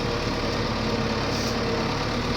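A New Holland TD85D tractor engine runs steadily and loudly up close, a continuous low droning rumble with no breaks, on a hazy day in a field.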